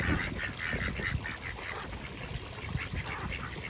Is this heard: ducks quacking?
yes